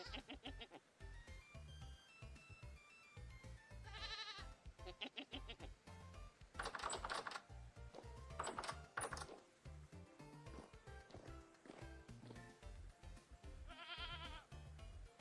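A goat bleats in the video game Vintage Story. A few wavering bleats repeat at intervals over busy in-game clatter and mechanical background sounds, with faint quiet talk at the edges.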